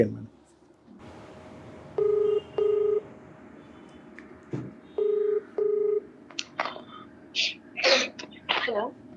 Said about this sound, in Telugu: ఒకసారి కాల్ చేస్తానండి